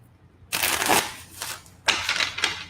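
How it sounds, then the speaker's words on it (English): Two bursts of tarot card shuffling, close and crisp, the second shorter, with a quiet pause between them. "Let's do one more shuffle."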